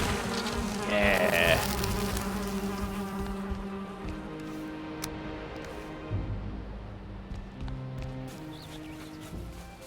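Bees drone around a beehive house in Valheim, a steady buzzing under game ambience that fades after a few seconds, with a brief spoken word near the start.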